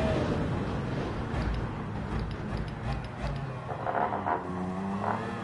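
Race car engine in Gran Turismo 7 braking hard into a corner, a steady loud motor roar with shifting pitch and rising tyre or engine whine toward the end, alone without talk.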